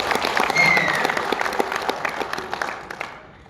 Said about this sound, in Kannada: ಎಲ್ಲರೂ ಒಂದ್ಸಲ ಚಪ್ಪಾಳೆ ಹೊಡಿಬೇಕು ಇದಕ್ಕೆ